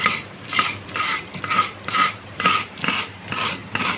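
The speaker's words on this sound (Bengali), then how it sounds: "তা চলো নারকেলটা ভালো করে কুড়ে নিই" Coconut being scraped on a coconut grater, a rhythmic run of close, raspy scraping strokes repeating about twice a second with a faint metallic ring.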